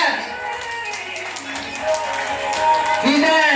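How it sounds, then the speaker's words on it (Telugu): Audience clapping at a cradle ceremony, a burst of applause with rapid overlapping claps and voices mixed in, moderately loud over a few seconds. "ఒక్కసారి గట్టిగా క్లాప్స్"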